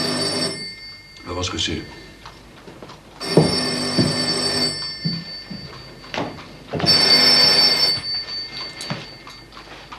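An old telephone bell rings in two long bursts separated by a pause, loud and close, while people talk in French between the rings.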